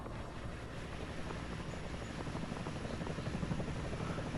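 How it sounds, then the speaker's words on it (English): Helicopter in the Family Guy PS2 video game, a continuous low rotor rumble with dense chopping texture holding steady throughout, moderately faint and alone without talk. "I hear a helicopter too."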